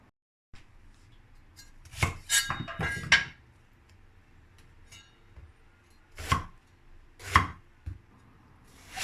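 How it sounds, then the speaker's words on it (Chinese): A knife chops eggplant into large strips on a cutting board: a quick cluster of sharp thuds, then a pause, then three separate clear cuts, close and crisp in a quiet kitchen. "简单的切成大条"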